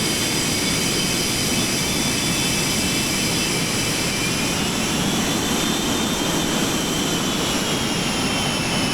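Milviz T-38 Talon twin jet engines running in Microsoft Flight Simulator, a loud steady turbine roar with a high whine that holds for the whole stretch, no voices over it.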